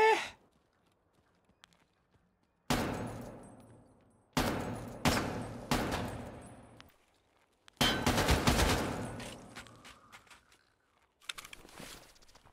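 M60E4 machine gun bursts in the game Escape from Tarkov, several long loud volleys of rapid fire separated by quiet gaps, with one extended burst and a few scattered shots trailing off.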